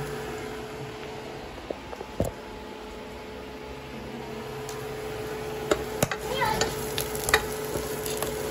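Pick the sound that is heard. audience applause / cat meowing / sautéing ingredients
sautéing ingredients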